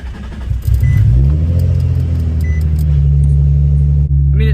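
A drift car's engine catches and settles into a loud, steady running rumble close by, with a brief rev near the start and a short dip near the end.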